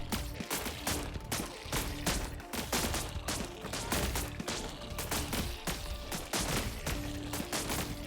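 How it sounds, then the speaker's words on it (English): Auto turrets in the video game Buggos fire a sustained barrage of loud, dense gunfire, shots rattling in rapid overlapping bursts throughout with no pauses. "It's constantly pummeling me with the shots from the auto turrets."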